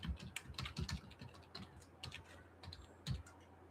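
Someone types a password on a computer keyboard, a quiet, close run of irregular key clicks in short bursts with small gaps between them.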